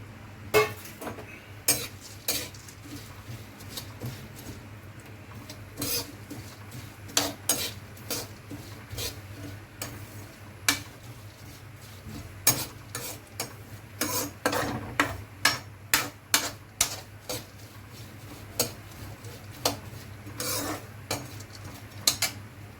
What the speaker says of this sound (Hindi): अब मैं इसके अंदर डालूंगा भूनने के लिए पंपकिन सीड्स और सनफ्लावर सीड्स।